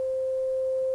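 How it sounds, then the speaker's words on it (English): A pure synthesized sine tone of about 500 hertz, generated in FL Studio, holds steady and loud for one second with no other sound. "I just thought I'd quickly add, you know, the sine wave. I believe middle C is 500 hertz"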